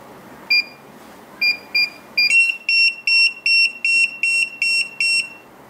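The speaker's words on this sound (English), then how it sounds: "As you can see, only beep, no flash anymore." A Retekess TD162 restaurant pager gives a few separate short beeps, then a fast steady run of about nine loud electronic beeps in quick succession.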